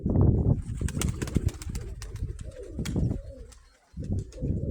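A pigeon that cannot settle on the ground coos in low, throaty phrases, fairly close and loud, with a brief pause near the end before the cooing resumes.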